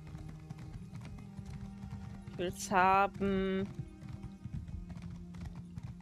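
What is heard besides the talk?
horse hooves clip-clop in video game Elder Scrolls Online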